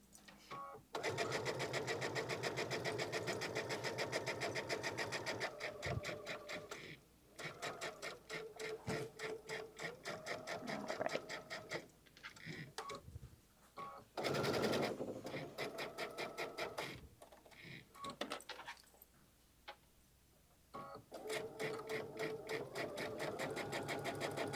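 A sewing machine stitches a pocket, including a short back stitch, in loud steady whirring runs that pause briefly and restart several times, with no talking.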